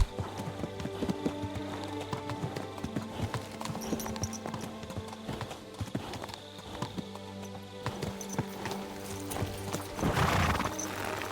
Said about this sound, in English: This horse is really panting a lot.